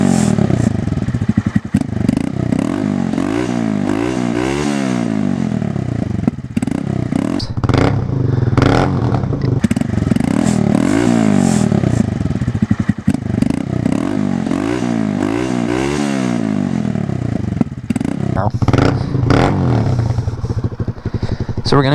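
A motorcycle fitted with a Kitaco clutch cover revs repeatedly, the engine pitch climbing quickly and falling back in two rising sweeps over a loud idle with mechanical clatter; a voice talks over part of it.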